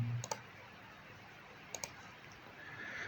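Mouse clicks selecting the Blend tool in Revit software: two sharp double clicks, one near the start and another about a second and a half later, over faint room hiss.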